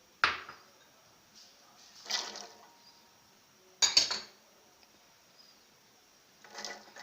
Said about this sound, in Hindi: एक देगचे में आप पहले यखनी ऐड कर दें। इसके अंदर तमाम वेजिटेबल्स डालकर गलने के लिए रख दें।